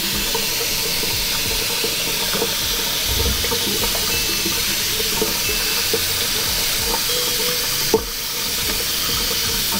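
Water pours and splashes steadily through a K&N reusable air filter being rinsed clean, a constant close rushing flow with small irregular drips and one sharp knock near the end.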